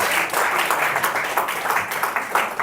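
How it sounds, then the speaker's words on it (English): Women in an audience applaud themselves at an International Women's Day celebration, a dense, steady wash of many hands clapping close and loud for a few seconds. "I want you to clap for yourself and appreciate yourself."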